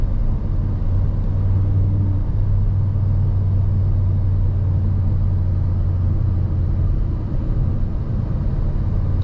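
Steady, loud low rumble of an Audi RS 3's five-cylinder engine from inside the car while driving, a continuous drone with a strong low hum throughout and no voices.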